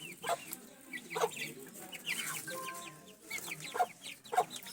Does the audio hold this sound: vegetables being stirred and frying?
no